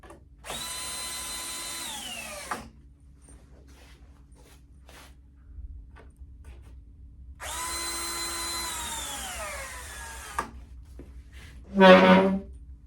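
A cordless drill set to a low torque setting drives screws into a 12-inch figure in two bursts of about two seconds each, whirring up and then winding down. A short clatter follows the second burst.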